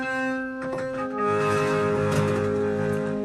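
Sustained modular synthesizer drone with steady tonal partials and shifting, metallic resonator textures swelling over the top, continuous and fairly loud.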